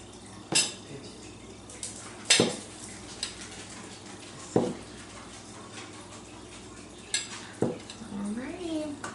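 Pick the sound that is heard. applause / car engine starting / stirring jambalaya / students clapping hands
stirring jambalaya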